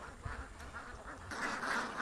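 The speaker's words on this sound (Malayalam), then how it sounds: "കുറേ താറാവുണ്ട്. സുന്ദരി താറാവ്, പഴങ്ങനാടിൻ്റെ സ്പെഷ്യൽ സുന്ദരി താറാവ്." Ducks quack in a faint, continuous chorus from a distance, the nasal calls overlapping and growing slightly busier toward the end.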